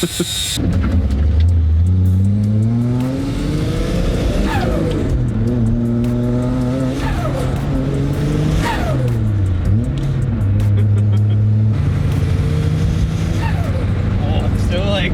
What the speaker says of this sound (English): I think it's kind of pinging.